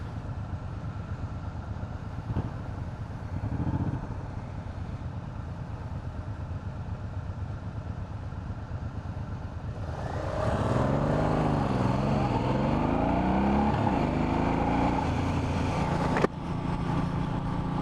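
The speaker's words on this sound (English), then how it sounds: "Kind of a nice sound to it for stock exhaust." Stock exhaust of a Suzuki M90 motorcycle rumbling steadily while riding, a low engine drone that grows louder and rises and falls in pitch partway through as the bike accelerates.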